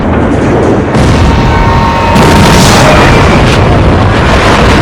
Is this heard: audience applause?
no